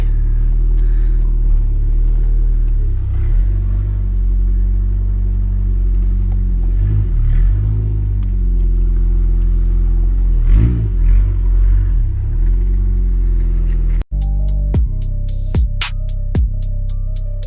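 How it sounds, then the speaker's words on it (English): Ford Ranger pickup engine rumbling steadily as it drives around a block, loud and close throughout with a few revving swells, then a sudden cutoff near the end followed by a lower idle with sharp clicks. "Now that we drove it around the block"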